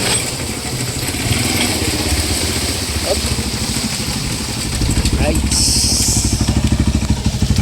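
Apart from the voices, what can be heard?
motorcycle engine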